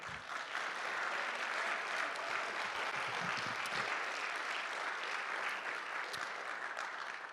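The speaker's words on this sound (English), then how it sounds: "Clap for that." A live audience at a music and reading night applauds a professional trumpet player, with continuous, fairly distant clapping that holds evenly throughout.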